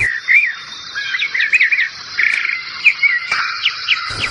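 Small birds calling in the Pantanal around a flowering tarumã tree: bright chirps and quick warbling trills overlap at close range over a steady high insect drone.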